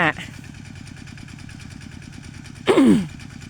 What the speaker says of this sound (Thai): ไอ้หนุ่มรถไถ ไอ้หนุ่มรถไถพ่อใหญ่สิงมาแล้ว